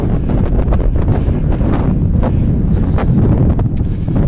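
Strong wind buffets a handheld microphone outdoors in a suburban neighborhood, a loud continuous rumbling roar with gusty thumps throughout and no other clear sounds.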